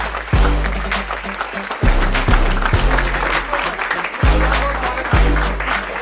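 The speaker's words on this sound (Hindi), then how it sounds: "बस भाई, कितनी ताली बजाओगे?" An audience claps to welcome an IVF specialist guest on a talk show, loud continuous applause layered with recurring low musical tones and beats.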